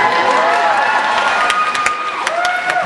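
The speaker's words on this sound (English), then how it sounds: "That was supposed to be an applause break." Outdoor rally audience breaking into applause and cheering, a crowd wash of clapping with scattered voices and sharp claps mixed in, loud and sustained.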